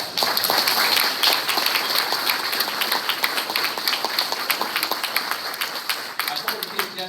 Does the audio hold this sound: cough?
no